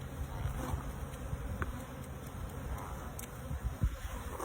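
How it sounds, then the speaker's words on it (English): Hundreds of honeybees fly close around an opened beehive, a steady, fairly quiet buzzing hum with no talk. "I hope you kids can see all these bees flying around me."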